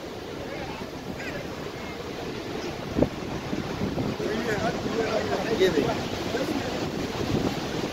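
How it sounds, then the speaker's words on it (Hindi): Rushing water roars steadily and broadly at Niagara Falls, a constant close wash of noise with someone speaking briefly over it. "ये वो पॉइंट है जहाँ पर आबशार गिर रही है"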